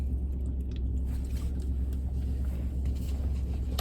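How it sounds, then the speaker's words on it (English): A truck engine idling as it warms up, a quiet, steady low rumble with a faint irregular rattle on top, continuous and unchanging for a few seconds. "Warming up the truck."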